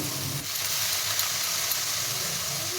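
Chitoi pitha batter sizzling in a pan over very low heat with a splash of water, a steady, close hiss of frying and steam running throughout.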